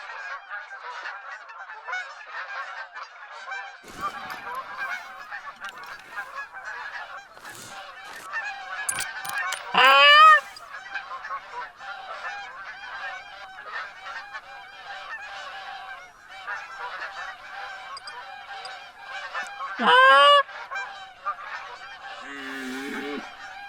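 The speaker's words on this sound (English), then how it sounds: "see if maybe we can get lucky and pull the geese from over there closer." Geese honking in theHunter: Call of the Wild hunting game, a steady chorus of calls from a flock with two louder, nearer honks standing out, no talking.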